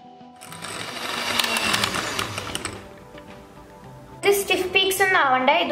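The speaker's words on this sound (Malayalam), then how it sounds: "ഇനി നമുക്ക് എഗ് വൈറ്റ് ബീറ്റ് ചെയ്തെടുക്കണം." An electric mixer beats egg whites for a Battenberg cake, giving a steady motor whir for a couple of seconds before it fades, followed by a voice speaking.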